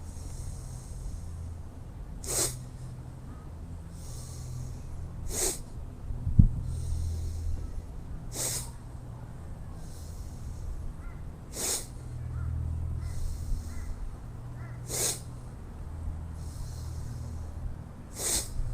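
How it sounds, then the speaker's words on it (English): During a yoga session, deep breaths in and out come as loud, airy bursts, one roughly every three seconds, forming a slow, regular rhythm against a low, quiet background. "Deep breath in. And the usual breath out."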